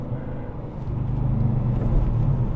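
A 2021 Dodge Challenger R/T with its 5.7-litre Hemi V8 gives a deep, steady exhaust rumble that swells slightly louder partway through and stays close and unbroken, with no talking over it.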